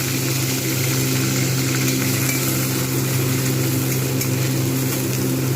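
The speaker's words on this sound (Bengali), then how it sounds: "এপিট ওপিট করে হালকা ভেজে নিলাম।" A spice paste of poppy seed mix for beans posto fries steadily in a pan with cumin tempering, a continuous even sizzle with faint stirring, close and loud, with no voices.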